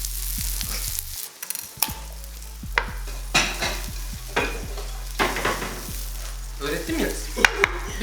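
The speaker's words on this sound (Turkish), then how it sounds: "Arkadaşlar bizim ahtapotumuz kızardı." Octopus fries in a pan with an unbroken crackling sizzle, close and fairly loud, punctuated by repeated knocks and scrapes of a utensil against the pan.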